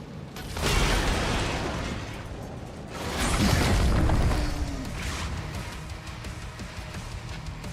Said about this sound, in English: that was a powerful stomp